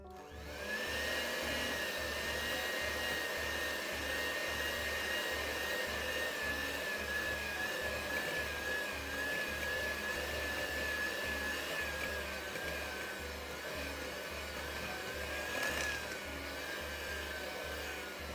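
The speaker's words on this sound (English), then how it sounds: "add 1 3/4 cups of sifted confectioner's sugar and mix on low speed" Electric mixer running on low speed, blending sifted confectioner's sugar into chocolate cream cheese frosting, a steady close whirring motor hum with a rhythmic low pulse lasting throughout, no talking.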